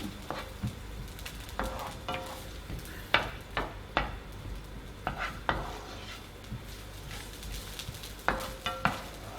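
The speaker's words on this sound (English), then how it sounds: "when you add your onions, hear that sizzle" Onions sizzle steadily in a hot frying pan while a utensil stirs and scrapes, with sharp clinks against the pan at irregular intervals.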